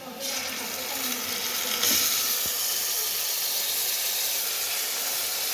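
Chopped tomato dropped onto browned onions in a hot pan, giving a loud, steady steamy hiss that flares briefly as it lands and then settles into continuous sizzling, close by with no voices.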